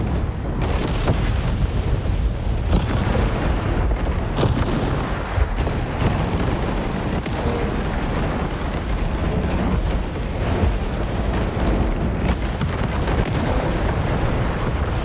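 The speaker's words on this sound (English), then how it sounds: "There's missiles everywhere." Missile explosions boom and rumble continuously in War Robots Frontiers, a dense, loud barrage of blasts and artillery-like impacts with no gaps across the whole stretch.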